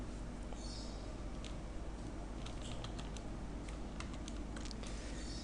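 Computer keyboard typing while entering labels into a Microsoft Access 2007 employee database, a run of quick, close, uneven key clicks over a low background hum.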